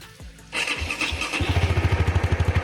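A Honda CB150R motorcycle fitted with a CBR250RR twin-silencer exhaust fires up and revs, then settles into a close, deep, rhythmic throbbing pulse at a brisk steady beat.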